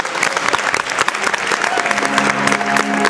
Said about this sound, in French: Eric Prier, qu'on applaudit très fort.